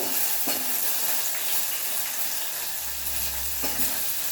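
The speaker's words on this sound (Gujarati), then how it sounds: "એમાં આપણે એડ કરીશું એક ટામેટું" A tomato frying in a pan for a gravy with cashews and garlic, giving a steady close sizzle with a few scraping stirs and a brief low rumble partway through.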